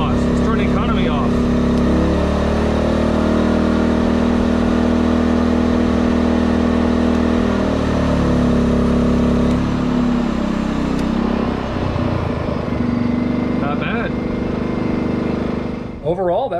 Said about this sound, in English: a 2000 watt inverter generator that is the complete sine wave technology, but fires right up, runs good